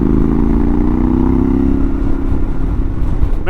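Yamaha Tenere 700 motorcycle with a new aftermarket exhaust, a steady close engine drone with a slight rise in pitch, loud and continuous outdoors in the woods, with no voices over it.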